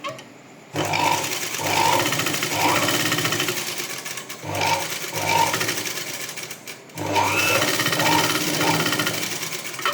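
A sewing machine stitches piping onto the front panel of a blouse, running in several loud, steady bursts separated by short pauses.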